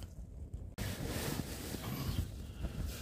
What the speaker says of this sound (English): Wind's got up a little bit.